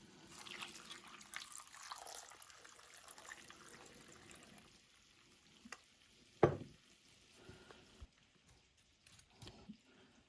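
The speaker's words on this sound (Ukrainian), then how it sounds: "І тепер заливаю водичкою." Water trickling and splashing as it is poured into a pot of vegetables with pepper mix and bay leaf for potatoes with pork belly and beans, soft and close, with a brief louder splash midway and quiet kitchen clatter.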